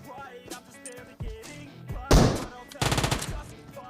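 Gunfire in the mobile battle-royale game PUBG Mobile, scattered single shots followed by a loud blast and a rapid automatic burst, sharp and close.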